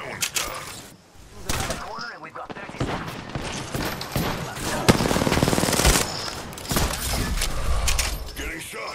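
Gunfire in the video game Apex Legends, dense, rapid automatic bursts mixed with impacts and shattering noise, continuous and fairly loud, with a voice talking over the combat.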